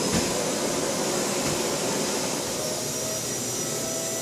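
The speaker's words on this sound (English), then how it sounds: "you gotta put the elastic on the end of the vacuum." A vacuum cleaner, used to pull hair into a ponytail, runs steadily and loudly throughout, a constant high-pitched whine over a broad roaring hiss.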